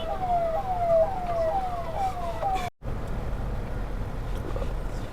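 Ambulance sirens wail in a traffic jam in Prayagraj, a repeated falling tone cycling several times nearby before a brief dropout, then fading into a steady rumble of traffic noise.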